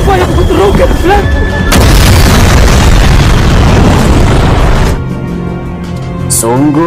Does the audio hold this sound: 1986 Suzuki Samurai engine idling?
no